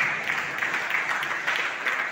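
Audience clapping at a village felicitation ceremony for Vemana Jayanti celebrations in Modukuru, a short, even burst of many hands applauding together at moderate volume.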